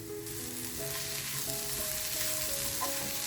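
Gram flour masala with onions and coriander leaves frying in a pan, giving a steady, loud, dense sizzle that carries through the whole short stretch, with faint tonal hums underneath.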